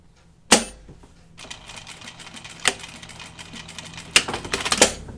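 A sewing machine stitches across folded fabric for a kimono or shirt dress, with sharp clicking bursts at the start and near the end and a light rattling run of stitching between them, no talking.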